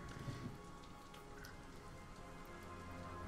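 Soft, steady rainfall patters in Batman: Arkham Asylum, a faint continuous hiss of drops with no voices over it.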